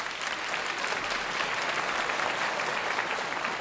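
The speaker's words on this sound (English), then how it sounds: "Let's give them a round of applause." Steady applause from a conference audience at a multiple sclerosis symposium fills the room for the event's sponsors, a continuous dense patter of many hands with no voices on top.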